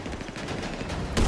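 Gunfire in GTA 5 FiveM, a rapid rattling burst of shots fired close and loud, ending in a heavier, fuller blast at the very end.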